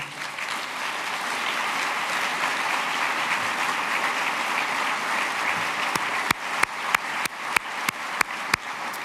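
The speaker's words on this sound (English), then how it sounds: "You applaud for him standing" An audience at a city State of the City address applauds Army veteran Paul Lewis as he stands, a broad sustained wash of clapping that tapers to a few distinct, loud individual claps near the end.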